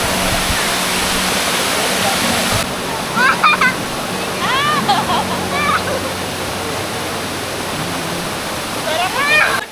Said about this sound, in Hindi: चारों ओर जंगल और उसके बीच में से जा रहे हैं ये सारे झरने